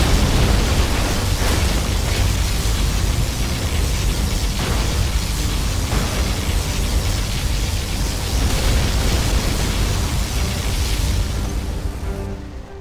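A particle cannon blast in Command & Conquer: Generals, a loud, sustained roaring wash of noise that runs unbroken for several seconds, swells with heavy booming pulses, and tails off slightly at the end.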